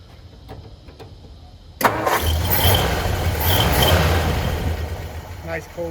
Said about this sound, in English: Nice cold start. She fires right up